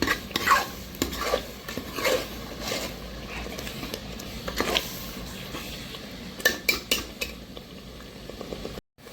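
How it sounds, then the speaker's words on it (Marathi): Chicken curry masala is stirred in a pan, with repeated scraping strokes of a spoon against metal over a low sizzle, irregular bursts close by, ending abruptly. "तर मसाला चांगला मिक्स करून घ्यायचा आहे."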